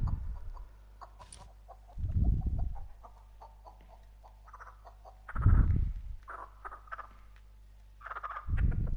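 Chickens cluck in the Texas Chainsaw Massacre video game, with a few bursty clucks spread over a steady low background hum, moderately close and with no talk.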